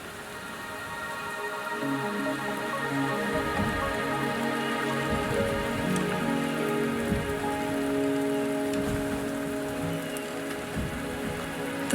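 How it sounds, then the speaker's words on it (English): Steady rain falls in the Wuthering Waves video game near Mt. Firmament, an even, dense patter of drops on surfaces that holds a constant level throughout, with no talk. "The rain is subsiding, and the sky will soon clear."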